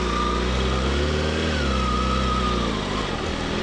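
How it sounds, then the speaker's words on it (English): Kawasaki Ninja motorcycle engine riding around a building, a steady, loud, high-pitched buzz with the pitch rising and falling slightly as the throttle changes, close and continuous. "Let's rip it around the building real quick like I usually do on these."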